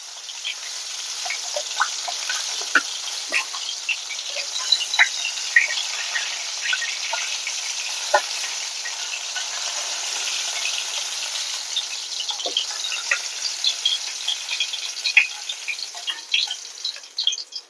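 Eggplant and potato pieces fry in oil in a pan, giving a continuous close hiss speckled with sharp pops and crackles that swell and ease as they are turned.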